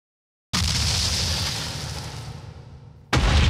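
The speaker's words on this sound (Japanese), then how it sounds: "今ちょうど真上で爆発した。" A blocky explosion goes off directly overhead during a Minecraft prison-escape tag game: a loud, sudden broadband boom that rumbles and fades over a few seconds, then a second burst starts abruptly at the end.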